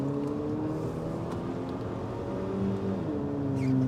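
A 2022 Haval H6 GT engine revs up and down through a loud exhaust, rising pitch sweeps heard from nearby, with no talking.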